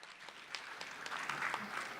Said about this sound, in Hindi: आप इसके लिए भरपूर तालियां बजाइए